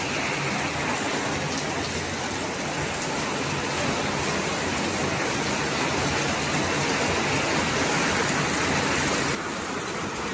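Heavy rain falls steadily in Palayam, Dindigul district, with no wind or thunder. It makes a close, even hiss of drops on surfaces that holds constant and eases slightly near the end.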